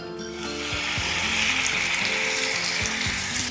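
Marinated chicken frying in oil with bay leaves and cinnamon leaves, a loud, steady sizzle with a few low clatters and stirring knocks of the pan throughout.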